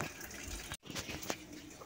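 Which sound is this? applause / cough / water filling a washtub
water filling a washtub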